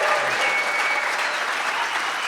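An audience at a radio folk performance applauds the performers, a dense, steady wash of clapping that stays loud and even throughout the short stretch.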